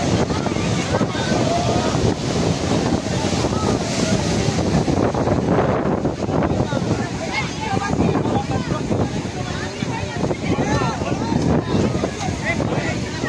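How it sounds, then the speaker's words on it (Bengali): Sea waves surging onto New Digha beach, a continuous loud rush of surf heavily buffeted by wind on the microphone, recorded close to the water. "এই জায়গায় ঢেউটা কিন্তু খুব সেরা দেয়, দেখুন কিভাবে জলোচ্ছ্বাসটা হচ্ছে"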